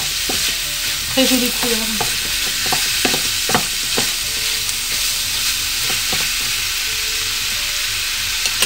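Mushrooms stirred in a frying pan, with a constant loud sizzle and a series of distinct spoon scrapes and clicks, and a brief spoken comment partway through.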